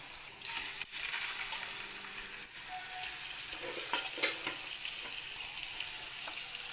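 Fish pieces frying in a pan with onions, a constant sizzle with occasional clinks and stirring scrapes, fairly close, no talking.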